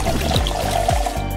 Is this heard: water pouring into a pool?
yes